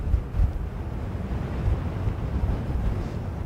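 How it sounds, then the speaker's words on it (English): Strong wind buffets an outdoor microphone at Dublin Airport on a crosswind day, a low, steady rumble with gusty surges and no other clear sounds. "That wind."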